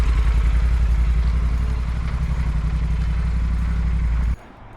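A Yamaha Super Tenere motorcycle idles in a workshop, a steady close, loud low engine rumble that runs evenly for about four seconds and then cuts off abruptly into quiet.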